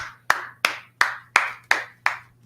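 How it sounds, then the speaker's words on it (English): Seven sharp, evenly spaced claps ring out in a steady rhythm over a low hum, a small group clapping for a scripture class at an ISBK gathering in Harlem, New York. "Clap it up for the class"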